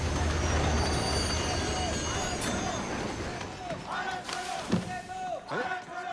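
A train runs with a dense rumbling clatter that gradually thins, followed by squeals and rattles close by, while people talk over it.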